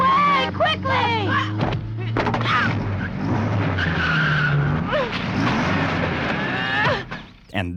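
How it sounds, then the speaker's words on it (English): A car in an animated Dragon Ball film skids to a stop, then revs and accelerates forward into a person, with dense layered engine and tire noise, a few animal-like bellows and bits of background voices mixed in. "The car literally stops and then she hits the gas to keep pushing him over"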